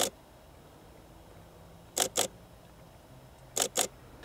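Camera shutter firing on a macro shoot at night, several crisp clicks standing alone: one at the start, then two quick pairs spaced well apart over a faint, quiet background.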